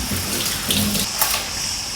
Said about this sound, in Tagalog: Alisin ko na yung tubig nito para maalis yung sustansya niya.